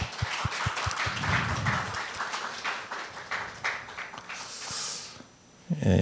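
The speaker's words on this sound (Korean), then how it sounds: "우리 준비하신 모든 분들에게 우리 박수 한번 하겠습니다" A church congregation at a Wednesday Christmas service claps together after a choir performance, opening with a few distinct claps before swelling into a brief, dense round of applause that fades out.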